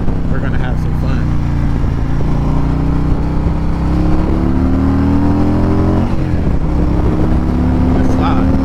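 A freshly built Harley-Davidson Road Glide rumbles loudly on its first ride, engine tone rising and falling through gear changes, with a rider talking over the close steady drone.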